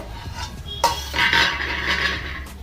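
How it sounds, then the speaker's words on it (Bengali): A metal lid is lifted off a cooking pot of Bengali tela kachu stems simmering in gravy, with a short clink followed by a hissing rush of steam, near and fairly loud, with no talking. "এবার ঢাকনাটা খুলবো।"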